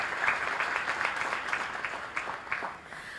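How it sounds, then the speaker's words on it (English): Faint, scattered clapping from a conference audience, with individual claps standing out in a loose, uneven rhythm over a quiet room. "Ladies and gentlemen, a round of applause to Mariana Bazoum"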